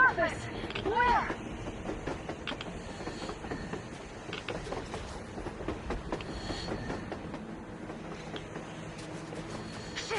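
A train rolling along on the surface in Metro Exodus, a steady rumbling clatter of wheels and cars at moderate distance, with people talking over it.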